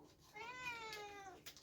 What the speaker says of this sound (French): Qu'est-ce que c'est ça? Un miaou, hein?